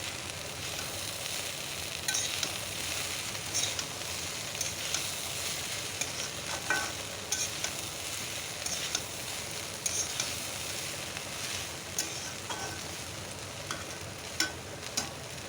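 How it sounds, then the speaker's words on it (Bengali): Frying food sizzles steadily after Kashmiri chili powder goes into the pan, with a spoon scraping and stirring in occasional soft clicks over the continuous hiss. "ওপর দিয়ে নাড়াচাড়া করে নেবো বেশ ভালো করে ভাজবো"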